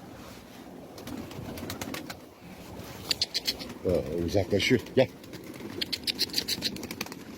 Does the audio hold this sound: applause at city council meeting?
no